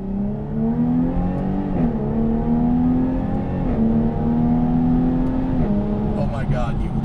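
A Jaguar F-Type V6S Coupe engine winds out hard, its rising drone climbing through gearshifts with brief drops between them, loud and close from inside the car.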